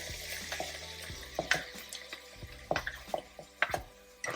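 Onions added to cooked ground meat frying in a pan, a quiet sizzle broken by scattered utensil clicks and scrapes at irregular moments, no talk.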